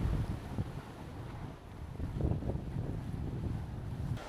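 Big storm-driven sea waves crash and spray on a beach at Nerja, Spain, a rough continuous roar mixed with gusty wind buffeting the microphone.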